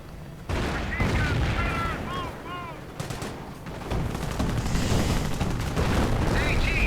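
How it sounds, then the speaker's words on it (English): Mortar rounds and gunfire in a World War II real-time strategy game match, with tanks moving up; sustained loud battle noise of bursts and booms, with whistling shell sounds early and near the end, continuous throughout. "More mortar rounds that don't quite hit."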